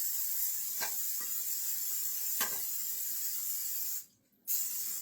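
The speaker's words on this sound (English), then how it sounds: "I'm going to spray it really good." A can of cooking spray hisses steadily onto a springform pan in a home kitchen, a continuous close spray with a couple of faint clicks, pausing briefly near the end before resuming.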